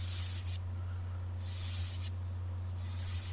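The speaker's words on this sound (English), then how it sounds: "and then I sprayed everything with a coat of shellac" Bursts of spray from a gun laying shellac onto hand-sanded drawer fronts, three long hissing passes separated by short pauses, close and steady over a constant low hum.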